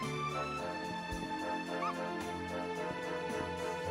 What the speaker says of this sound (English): This is a dog.